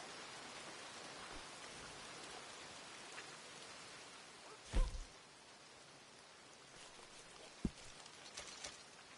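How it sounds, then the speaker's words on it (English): Steady rain falls in Red Dead Online, a dense hiss of drops on surfaces throughout, broken by a couple of brief louder thumps, with no talk. "Hate the rain"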